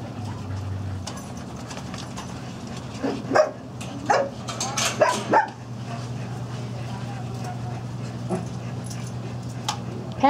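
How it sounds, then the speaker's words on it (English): Several small dogs in a kennel or shelter bark, yip and whimper in scattered bursts over a low steady hum, with high whines and sharp yaps clustering midway. "There's some puppies coming in, huh? Some new dogs."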